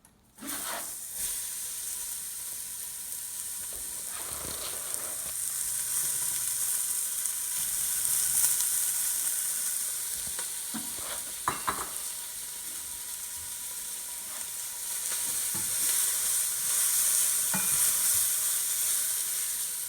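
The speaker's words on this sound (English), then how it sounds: "now we will be putting up diced carrots and celery and onions into the oil until the onions are brown" Diced carrots, celery and onions fry in oil for a venison shank dish, a loud, even sizzle that runs for about twenty seconds with occasional soft stirring clicks and no voices.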